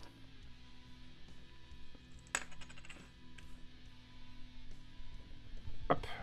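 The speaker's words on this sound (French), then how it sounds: "ils viennent se clipser en force" Small plastic radiator cap parts on a toy car snapping together with a couple of sharp clicks, faint and close over a low background hum.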